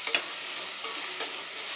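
Onion and tomato sauté in a pan for mutton kulambu, a steady close sizzle broken by scraping stirs, with no talking.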